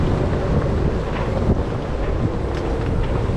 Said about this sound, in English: It's blowing 29 knots. I think we had like 40 knots just now.